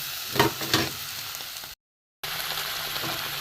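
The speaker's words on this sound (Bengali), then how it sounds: "একটু ভাজা ভাজা হোক, মশলাটা একটু কষা হোক" Spice paste of turmeric, chilli powder and ground coriander-cumin fries in hot oil for a coconut-milk katla fish curry, a steady close sizzle with a few scraping stirs early on, a brief silent gap, then more even sizzling.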